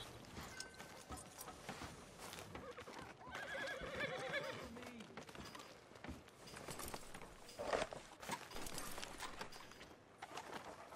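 A horse in Red Dead Redemption 2 whinnies loudly in a shaky, descending neigh, with hoof clip-clops and scattered game ambience around it, and a short sharp noise near the end.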